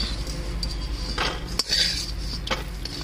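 Fried bori, lentil dumplings browned in a pan for a vegetarian greens dish, lifted out with a metal utensil: a few scraping clinks against the pan over a faint background sizzle, with no talking.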